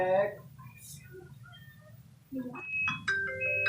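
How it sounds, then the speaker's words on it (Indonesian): A mobile phone rings with an incoming call, its melodic electronic ringtone entering partway through after soft tonal sounds, playing loud and close in a stepped pattern. "Tah jelema na nelpon."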